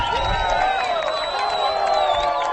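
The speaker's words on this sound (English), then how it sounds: "Crowd is going wild." A crowd roars and cheers continuously after Paul McBeth's ace on the 368-foot 13th hole at a disc golf tournament, with a dense, steady wall of whoops and shouting.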